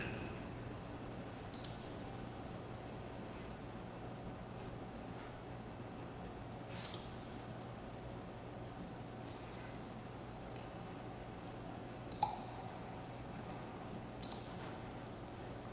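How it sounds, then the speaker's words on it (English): About five faint, sharp clicks are spaced several seconds apart over a steady low background hum. "Clicking on stuff."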